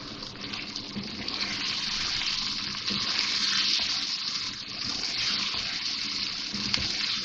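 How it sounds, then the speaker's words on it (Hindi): Water pours steadily into a pan of potatoes cooking with green chillies and nigella seeds, a continuous close gushing stream for several seconds. "अब मैं थोड़ा सा इसमें पानी डाल रही हूँ ताकि आलू भी गल जाएं"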